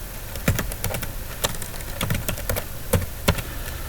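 Crisp, irregular keystrokes on a computer keyboard as a command is typed, a dozen or so close-up clicks with brief pauses between bursts, no talking.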